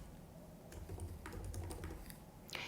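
Quiet, rapid tapping on a computer keyboard during accounting software data entry, with irregular bursts of keystrokes and a louder clack near the end, heard alone against a faint background hum.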